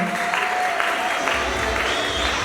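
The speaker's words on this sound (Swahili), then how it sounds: "Makofi na vigelegele kwake." A short burst of crowd applause at a Methodist choir launch event, a dense wash of clapping from many people, with a faint high ululating cry above it.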